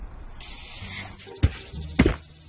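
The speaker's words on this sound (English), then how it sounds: "As sweet, sweet karma for CoolCat, the bully kid sprays himself in the face with the paint" Aerosol spray paint can hissing in a long burst, followed by two short loud thumps or bursts, heard from a cartoon-style clip.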